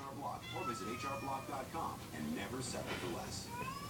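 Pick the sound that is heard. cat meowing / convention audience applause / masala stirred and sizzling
cat meowing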